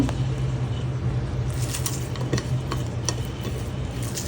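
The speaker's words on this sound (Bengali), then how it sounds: "দেখেন ভর্তা বানানোর জন্য আমি প্রথমে এটা পেঁয়াজের সাথে ভালো করে মিক্স করে নেব" A chili mash (bhorta) of green and dried chilies is mixed with onions by hand, giving soft, continuous squishing and stirring with faint scrapes and clicks, close and steady without talk.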